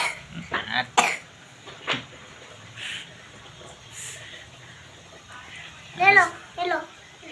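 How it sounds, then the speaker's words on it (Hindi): A young girl with a cold coughs in short, scattered bursts close by, some of them wet. An adult speaks softly in between. "हमारी बिटिया को हो गई है सर्दी खांसी।"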